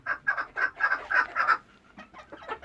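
Serama chickens clucking in a rapid series of short, close, fairly loud calls, bunched in bursts for the first second and a half, then softer scattered clucks, with no talking.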